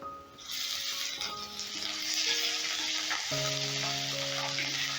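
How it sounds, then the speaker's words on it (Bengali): Ginger fries in hot oil with a steady, close sizzle, stirred now and then, while a tomato lentil dal with tempering is being made. "আদাটা কিন্তু হালকা করে ভেজে নেবে"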